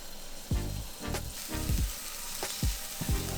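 Seafood sizzles in oil in a stainless steel pan, a bright steady frying hiss punctuated by several sharp bursts as pieces are set down or turned, close and clear.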